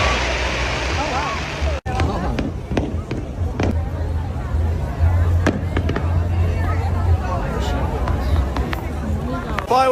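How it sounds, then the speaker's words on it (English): Fireworks bang and crackle in repeated sharp bursts over a steady crowd murmur at a Fourth of July celebration in America, some explosions louder and closer than others. "The fireworks were good, but weren't amazing."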